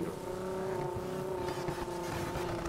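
A Mustang's supercharged engine in the racing game NFS Heat drones steadily with a strong, sustained tonal whine, loud and close throughout.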